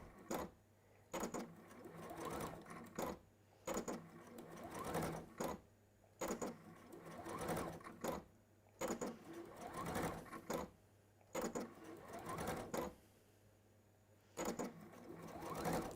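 A domestic sewing machine stitches fabric around a curve in bursts of steady rapid whirring, broken by short pauses. It is close but fairly quiet, with no talking.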